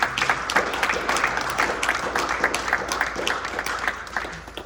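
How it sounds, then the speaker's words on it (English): An audience at an Air Force gathering gives a Senior Airman a round of applause, with dense, steady clapping that fills the room, tapers slightly, and continues throughout. "Give him a round of applause."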